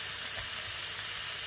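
Meat frying in its own fat in a pan with no added oil, a constant close hiss of sizzling with faint stirring underneath and no voices.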